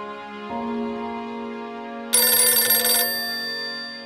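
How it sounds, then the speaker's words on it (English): A telephone rings with a sustained bell-like tone, joined midway by a brighter, louder burst of ringing that stops after about a second, while the steady ring carries on alone. "I got a phone call."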